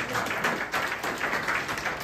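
An audience at a Republic Day free health checkup event claps steadily for a couple of seconds, a dense crackle of many hands with slight swells and no clear talk.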